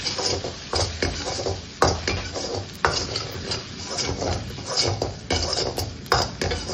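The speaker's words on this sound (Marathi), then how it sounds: "आलं, लसूण आणि शिमला मिरची आणि सॅलरी पत्ता टाकतो आणि त्याला चांगलं शिजवायला लावतो." Ginger, garlic, capsicum and celery stir-frying in a pan for manchow soup, a steady sizzle under repeated scraping and stirring clatter of a utensil against the pan, fairly close and continuous.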